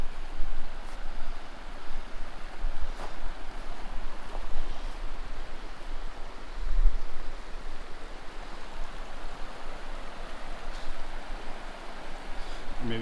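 A mountain river flows in a steady broadband rush, close by and continuous, with faint gusts and small splashes over it and no talk.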